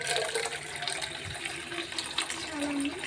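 Tap water runs into a steel vessel held under the faucet of a plastic kitchen sink, a steady close splashing stream with a faint rising fill tone near the end, with light background clatter.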